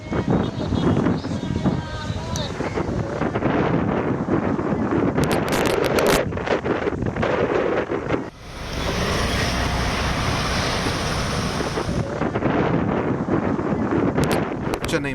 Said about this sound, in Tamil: சென்னை மெரினா கடற்கரையில் பலத்த காற்று வீசியது.